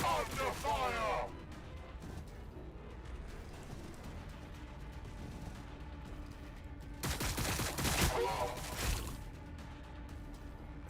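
Gunfire in Warhammer 40K Battlesector, a dense crackling volley at the start and another longer burst later, with quieter battlefield noise and speech between them.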